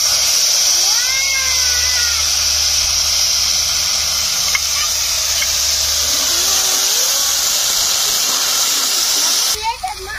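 Ground spice paste, made without onion or garlic, sizzles with a sustained bright hiss as it goes into a hot pan for a prawn curry. The hiss stays even and loud, then stops abruptly near the end.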